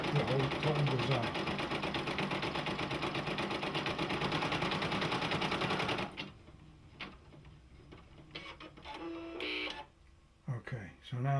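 A Brother PE-770 embroidery machine stitches a custom design, a rapid rhythmic clattering that runs steadily for about six seconds and then stops, followed by scattered handling clicks and a voice.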